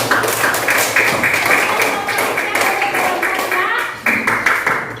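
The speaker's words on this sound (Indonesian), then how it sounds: "kita beri aplaus sekali lagi dari kelompok 3" Classroom applause for a student group, dense rapid clapping from many hands filling the room at a steady loud level, with a voice talking over it.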